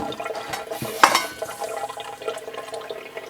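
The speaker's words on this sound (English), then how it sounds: "I'm just gonna rinse this off real quick." Tap water runs steadily while something is rinsed off during beef jerky preparation, a close, continuous splashing flow with one brief louder splash about a second in.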